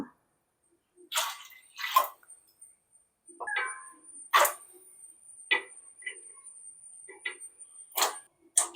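Water splashes and pours into a cooking pot of seeds to boil them, in several short bursts separated by quiet gaps, with a faint steady high whine in the background.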